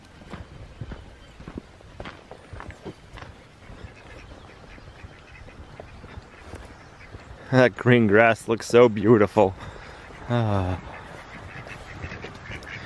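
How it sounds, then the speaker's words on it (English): Ducks on a farm burst into loud, rapid quacking partway through, clustered calls near the listener after quieter shuffling and footsteps, while a person talks. "Morning, ducks."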